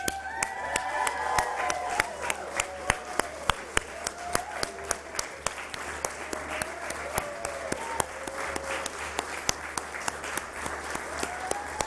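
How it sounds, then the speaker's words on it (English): A crowd claps and cheers at a financial education event hosted at NASDAQ, the dense applause running steadily throughout with sharp individual claps standing out and a few voices calling over it. "the louder you clap and cheer"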